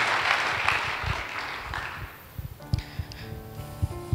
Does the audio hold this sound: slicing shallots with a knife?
no